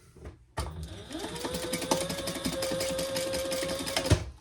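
A sewing machine stitches a seam on a Jasper Sling bag with a zipper, starting after a brief quiet moment and running steadily and close for several seconds before stopping.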